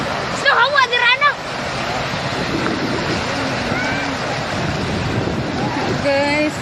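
Tsunami waves flood a beach in Governor Generoso, Philippines, as a continuous roaring surf under heavy wind buffeting, with people shouting and talking over the water.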